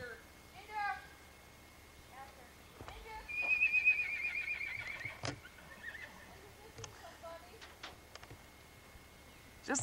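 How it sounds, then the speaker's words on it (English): A horse on a farm whinnies once in a long, high, wavering call at moderate distance, with people talking softly before and after. "That's a pretty horse, isn't it, Cadaver?"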